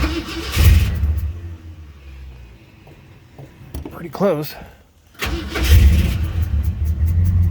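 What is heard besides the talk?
old car engine starting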